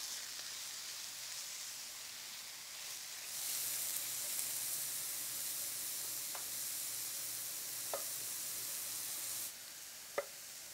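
Vegetables sizzle steadily in a hot pan while being stirred, a continuous frying hiss that grows louder partway through, with a few soft clicks of a utensil against the pan and no talking.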